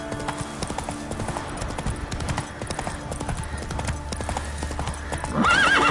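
Hooves of Roach, the horse in The Witcher 3, pound in a fast continuous gallop, close and loud, with a neigh breaking out near the end.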